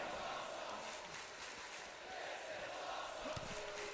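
A wrestling crowd roars and cheers as one continuous broad wash of noise, distant and fairly faint, with no breaks for its whole length.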